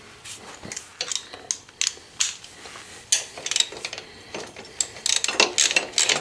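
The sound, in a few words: tightening crash bar bolts with a ratchet on Honda Africa Twin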